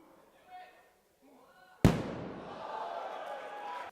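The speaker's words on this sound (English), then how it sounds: "this red one, the most loud and explosive, and it is a 2-to-1 ratio of hydrogen to oxygen" A pumpkin filled with a 2-to-1 mix of hydrogen and oxygen gas explodes in one sudden, very loud blast. A long, noisy decay follows the bang, and faint sounds come before it.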